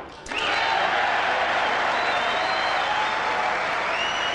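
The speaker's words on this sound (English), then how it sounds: "listen to the cheer after this again" Snooker crowd at the 2001 Masters Final, O'Brien versus Hunter, erupting in cheers and applause after a century break: a sudden loud roar that swells and holds steady, with whistles riding over the clapping.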